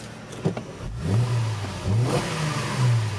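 A Mercedes-Benz SL350 roadster with 72,000 km revs its engine, giving a deep, throaty exhaust note that rises and falls in two or three close, loud blips with no talking.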